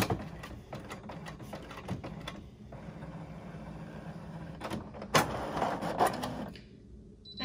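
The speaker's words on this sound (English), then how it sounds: "I'm just gonna hit the print button." A home photo printer runs through a print job, its feed mechanism whirring and clicking in a quick series of rhythmic pulses up close, then a louder mechanical clatter as paper moves, with no talking.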